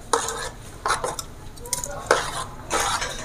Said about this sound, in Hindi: इसको हम चला लेंगे।